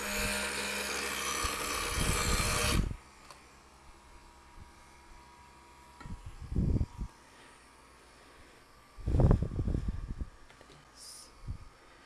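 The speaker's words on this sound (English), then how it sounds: "So I just give it like a quick grind all the way around to make sure I'm not gonna cut myself." A glass grinder buzzes loudly up close as the edges of a stained glass piece are ground all the way around, then stops, leaving quiet room tone broken by a few brief knocks and rumbles.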